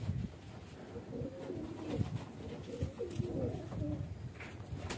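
Baby highflyer pigeons coo in soft, overlapping low warbles, close by and continuous, with no voices over them.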